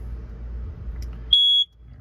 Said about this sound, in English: Right up above that, you get your smoke alarm.